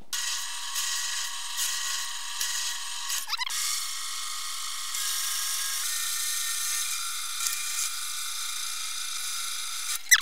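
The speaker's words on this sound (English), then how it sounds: "Now it's time to drill some holes." A power drill whines steadily as it bores holes into metal for a robot chassis, pausing briefly partway through before starting again, close by with no talking.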